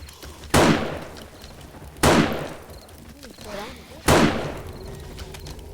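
Three loud, sharp gunshots in a zombie-horde survival video game, spaced about two seconds apart, each ringing out in a long decaying tail, with faint bursts of sound between them.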